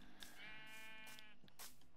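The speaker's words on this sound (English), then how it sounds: "Sheep, I need sheep to make a bed." Sheep bleating in Minecraft, a single wavering, drawn-out bleat in the middle, with soft clicks and footsteps around it, quiet and close, no talking.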